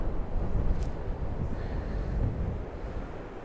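Wind buffets a microphone on a riverbank, a steady low rumbling roar with gusty swells throughout and no voices.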